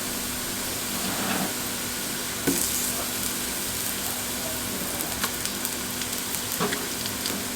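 Shrimp paste stir-fried in a pan, a steady low sizzle with occasional scrapes and clinks of the spatula, fairly quiet and continuous with no voices.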